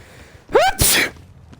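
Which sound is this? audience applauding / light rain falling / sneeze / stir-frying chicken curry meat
sneeze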